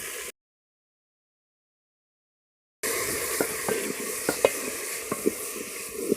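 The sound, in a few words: tomatoes and green chilies added to frying onions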